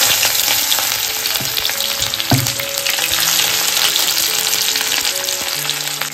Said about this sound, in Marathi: तेल मस्त तापलेलं आहे, याच्यामध्ये ना आपण कांदा घालून घेतोय.